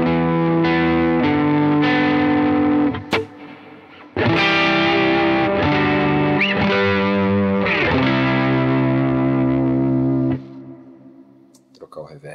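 An electric guitar strummed through a pedalboard with a reverb pedal, heavily distorted chords ring out with a washy, spacious tail, briefly dropping and then swelling back before fading into a lingering reverb decay.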